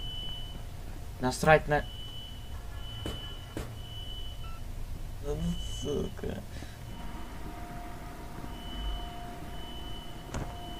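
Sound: beeping alarm in the video game INFRA

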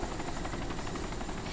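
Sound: helicopter in the video game DayZ

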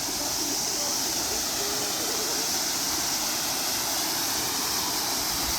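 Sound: waterfall in the Carpathian mountains

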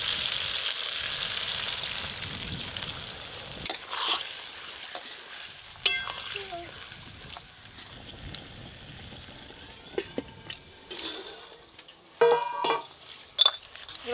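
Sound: sizzling potato cauliflower curry in pan

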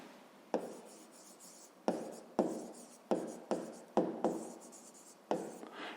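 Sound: writing the answer by hand

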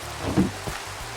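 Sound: rain in the video game Minecraft

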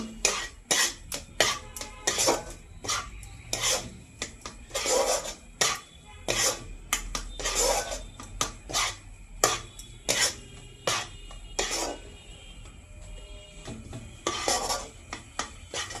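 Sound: dry-roasting semolina with raisins, stirring in a pan

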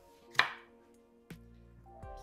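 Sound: chopping vegetables with a knife

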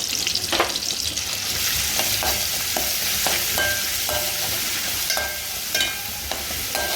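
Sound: frying tomato and paste for fish curry in pan

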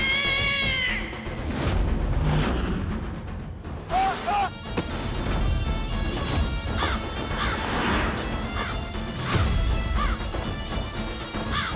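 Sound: cat

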